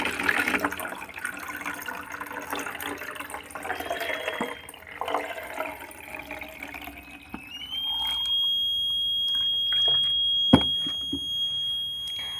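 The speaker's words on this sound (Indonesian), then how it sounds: "akan otomatis berbunyi ketika air telah sampai pada batas yang kita tentukan." An electronic flood-detector alarm sounds as water fills a bottle to the set level, a shrill continuous beep rising out of rushing pouring water and holding steady to the end.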